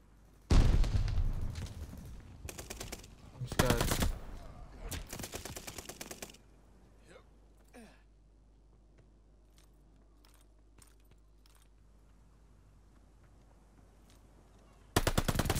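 Gunfire from a gun in the Call of Duty Vanguard video game rings out in loud rapid automatic bursts, several sharp volleys over the first six seconds, then quiet game ambience before another burst at the end.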